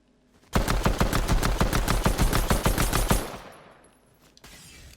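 Rapid pistol fire in the video game Fortnite, roughly fifteen sharp evenly spaced shots over about two and a half seconds, loud and close, then fading into a trailing echo.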